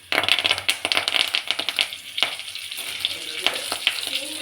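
Cumin seeds and curry leaves spitting in a spoonful of hot oil, a loud close crackle of sharp pops and hiss with a few clinks, fading to a steadier sizzle.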